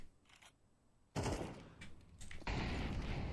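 Gunfire in a Counter-Strike match: a faint shot early, then sharp loud bursts at about one second and again near two and a half seconds, with brief quieter shots between, no talk.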